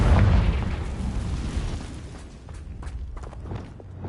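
Confringo spell explosion in the video game Hogwarts Legacy: a loud, deep boom that opens the clip and then rumbles and crackles away over a few seconds.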